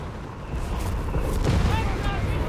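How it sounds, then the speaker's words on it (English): Artillery strikes in the Company of Heroes 3 strategy game, a dense rumbling boom that swells and holds as a heavy low roar over continuous battle noise. "And artillery, I think."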